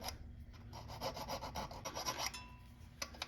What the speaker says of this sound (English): I got this small set of precision files. What I want to do is make sure there's no rust